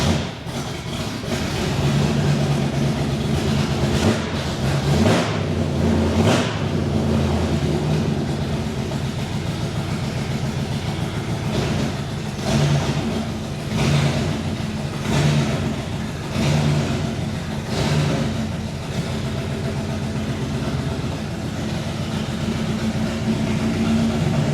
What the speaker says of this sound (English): So let's fire it up and see if it moves.